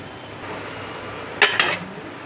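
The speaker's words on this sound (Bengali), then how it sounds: "এবারে ঢাকা দিয়ে দেবো।" A metal lid is set onto a pressure cooker holding mutton curry, making two or three quick close clinks in an otherwise quiet kitchen.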